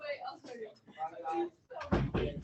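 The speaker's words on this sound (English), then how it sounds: "Shut that door." A door is pushed shut in a busy room, a firm thud with a short rattle landing near the end, after lively overlapping voices of adults and kids talking.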